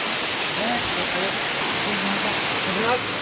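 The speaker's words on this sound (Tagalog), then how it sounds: "Grabe to kay kakasok ang ulan" Heavy rain pours steadily as a dense hiss, with faint voices talking underneath.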